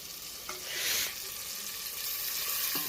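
Dal cooking in a pot being stirred, a soft scraping swirl over a steady bubbling sizzle, close and without talk.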